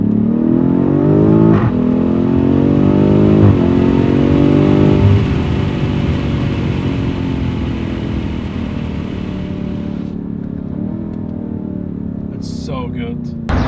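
A BMW M5 Competition's exhaust drones steadily from inside the cabin with the window down, a low engine hum that rises slightly as the car accelerates, then settles into a smooth cruise with some wind noise.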